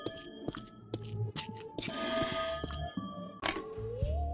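A phone rings in the video game There Is No Game, sounding as a few repeated electronic ring tones with short pauses between them, clear and close, with game music and effects mixed in.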